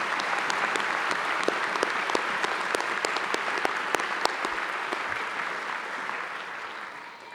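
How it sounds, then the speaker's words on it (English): Sustained applause from an audience at a university graduation ceremony in Auckland: a dense, steady wash of many hands clapping that slowly tapers off near the end. "Can we give him another round of applause?"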